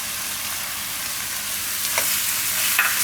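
Ivy gourd curry thickened with gram flour sizzles in the pan as it is stirred, a dense, steady hiss with occasional scraping strokes near the end, close and loud with no talk.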